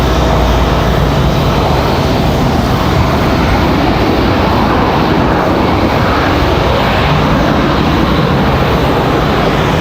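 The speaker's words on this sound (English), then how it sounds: "There's our CRJ from Cincinnati. Nice smooth touchdown for them." A Bombardier CRJ regional jet from Cincinnati lands at Raleigh-Durham airport. A broad, steady roar of jet engines and rushing air fills the scene, loud and continuous with no breaks.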